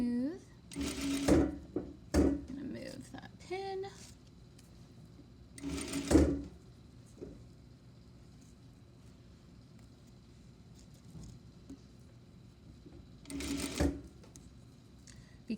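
A sewing machine stitches a fabric seam in short bursts of whirring, three main runs spread across the clip with pauses between them. A voice talks quietly in the gaps.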